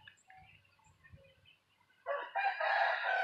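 A rooster crows loudly and close by, one long drawn-out cock-a-doodle-doo that comes after soft clucking and low shuffling sounds.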